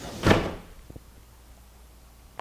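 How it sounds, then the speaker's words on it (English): A Metal-Craft three-panel sliding door closes with one loud, close thud, followed by a few faint knocks and then near silence. "You can see this door makes an excellent sound seal because when I close it"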